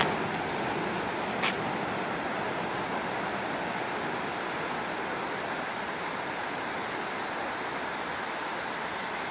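Arabian Sea waves at the Kavaratti Island lagoon in Lakshadweep in the early morning, a steady broadband wash of surf mixed with wind buffeting on the microphone, continuous and moderately loud, with no voices.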